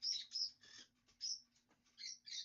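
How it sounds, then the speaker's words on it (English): Pet bird Kiwi chirps in quick bright bursts, several high tweets and squeaky calls in an uneven rhythm, close but fairly quiet, with no talking. "What are you doing, crazy bird?"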